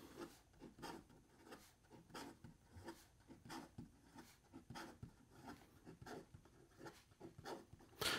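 Fast handwriting with an Edison Collier Grande fountain pen fitted with a #8 Magna Carta nib, a close, soft rhythmic scratching of nib on paper in quick repeated strokes.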